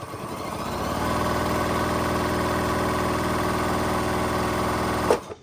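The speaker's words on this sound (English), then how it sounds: "So this machine sews at a maximum speed of 1200 stitches per minute." A Janome MC6700 sewing machine runs at full speed, a steady, fast, loud mechanical hum and stitching rattle that holds for about four seconds, then stops with a brief clunk, with no voices.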